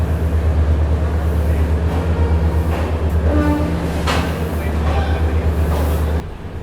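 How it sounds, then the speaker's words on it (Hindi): The Amritsar Shatabdi train leaves platform 1 at New Delhi station: a steady, fairly loud low rumble and rolling noise continues throughout with faint higher clatter, then drops a little at the very end. "फाइनली 5 मिनट का डिले हुआ है और हमारा डिपार्चर हो गया है प्लेटफॉर्म नंबर 1 से न्यू दिल्ली स्टेशन से"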